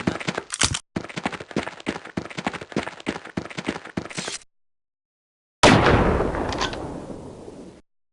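Rapid rifle gunfire cracks sharply in the video game Half-Life: Opposing Force, about a dozen shots in steady bursts, then a silence, then a single heavy blast with a long decaying tail.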